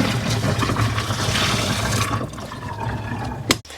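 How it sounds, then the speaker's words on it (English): Boiling water is poured down a clogged sink drain, making a steady rushing, gurgling flow that runs for a few seconds before ending in a short knock. "First, we're going to try boiling water down the drain."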